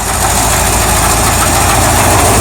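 A 1978 Chevrolet El Camino engine idles loudly and steadily up close, a dense continuous rumble with no voices over it.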